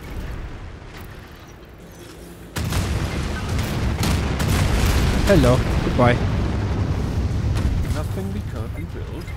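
Loud booming explosions in the video game Anno 2205, a sudden heavy blast partway through followed by sustained rumbling, with brief spoken words and other game sounds over the top.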